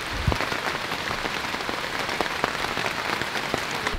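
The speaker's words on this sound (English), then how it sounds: "The rain is coming." Steady rainstorm pouring down, a dense, even hiss of rain on surfaces with scattered close drops, continuous throughout with no voices.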